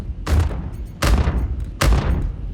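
Ballistic ship guns on a Drake Herald fire three loud, separate bursts of rapid shots in Star Citizen, each with a sharp onset and short rumbling tail, spaced under a second apart.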